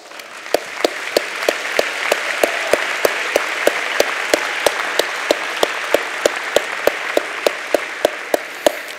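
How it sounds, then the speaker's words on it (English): Graduating high school seniors applauding at their 2014 Ithaca High School commencement, a broad, even roar of crowd clapping held steady for several seconds, with sharp regular clicks ticking through it. "give yourselves a huge round of applause"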